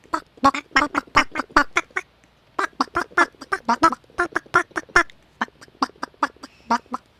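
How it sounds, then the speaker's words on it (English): Chickens in an outdoor cat enclosure give a fast run of short, clipped clucks in rhythmic bursts, with one brief pause before the clucking resumes, close by and fairly clear. "We got chickens."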